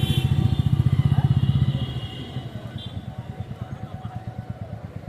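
A Royal Enfield motorcycle engine idles close by with a fast, even thumping beat, loudest at first, then settling to a slightly softer steady pulse.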